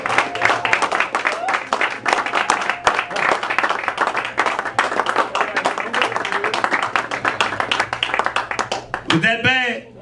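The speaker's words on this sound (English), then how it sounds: "Give him another round of applause" Audience at a talk bursts into sustained, dense applause with clapping hands and scattered crowd noise, loud and continuous for most of the stretch, with a voice breaking in near the end.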